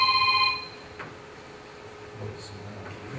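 A mobile phone ringtone sounds briefly at the start, a bright chiming burst that cuts off within half a second, leaving quiet room noise with faint stray clicks.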